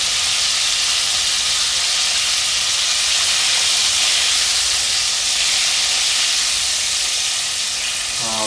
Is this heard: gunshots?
no